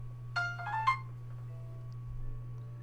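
A mobile phone ringtone chirps in a short melodic burst of a few tones near the start, then stops, leaving a quiet room with a steady low hum.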